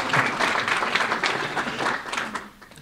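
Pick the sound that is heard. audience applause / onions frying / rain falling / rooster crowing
audience applause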